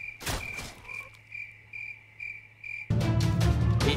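Frog croaking in a bow-only cash cup match of a video game, a steady chirping, cricket-like call pulsing at an even rhythm, then masked by a sudden loud burst of game noise near the end.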